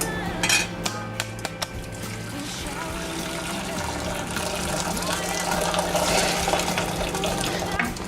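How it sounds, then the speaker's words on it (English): Boiled potatoes, kumara and carrot being drained from a pot in a kitchen, with a few sharp metallic clinks of the pot followed by a steady run of pouring, splashing water. "Okay, so I've drained my vegetables."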